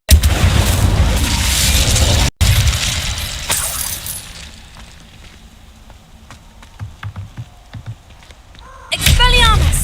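An Incendio fire spell in a Harry Potter video game roars as a loud, dense whoosh that cuts off abruptly, then gives way to scattered crackles and pops, before a voice and another loud burst arrive.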